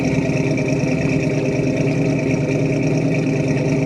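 A 1966 Ford Mustang Fastback's exhaust under hard acceleration on a gravel road, a steady loud engine drone held for a few seconds with no talk over it.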